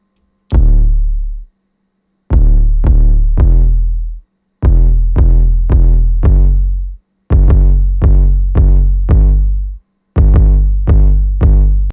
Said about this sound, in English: following the root notes, I just placed in 808s where I think they should be.